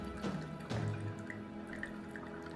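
Distilled water trickles slowly through a funnel into an oven's reservoir, a soft, continuous pour with faint drips, close and quiet with no voices.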